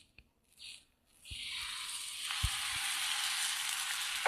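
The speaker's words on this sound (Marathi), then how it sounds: "आणि आता छान आपण खरपूस भाजून घेऊयात." Puran poli roasting on a hot tawa, a soft sizzle that starts after a quiet moment and then holds steady and close, with a few small taps and bumps while it crisps.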